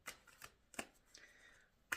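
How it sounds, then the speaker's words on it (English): Angel tarot cards being shuffled by hand, a few quick riffling and slapping bursts, close and quiet, with no talking. "So what I'm about to do is just shuffle the pack"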